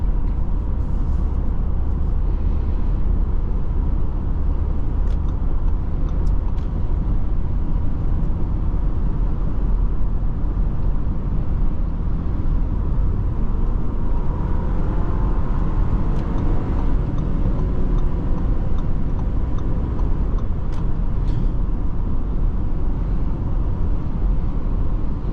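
A 2023 Audi Q5 Sportback drives and accelerates, heard from inside the cabin as a steady, loud engine and road drone that holds for the whole stretch, with no talking.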